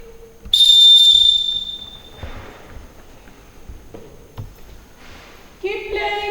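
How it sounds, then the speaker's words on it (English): A teacher's whistle starts a children's tunnel ball race at a nursery class activity, one loud shrill blast followed by the scuffle and chatter of young children moving. "With my whistle we will start the race."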